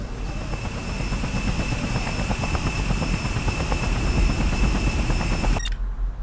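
Rapid thudding of helicopter rotor blades in the video game Just Cause, with a steady high whine, continuous and close, cutting off abruptly at the end.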